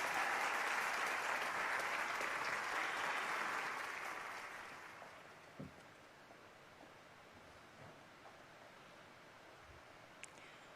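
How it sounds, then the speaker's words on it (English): An audience at an anniversary celebration gives warm applause to welcome a speaker, a broad crowd clapping that fades out after about five seconds into a quiet hall with a few faint bumps. "let us give another warm round of applause to welcome True Mother"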